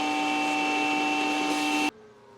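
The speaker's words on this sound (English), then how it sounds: "So go ahead, vacuum this up" A vacuum cleaner whines loudly and steadily close up while sucking drilling debris from a van floor, then cuts off abruptly near the end, leaving quiet room noise.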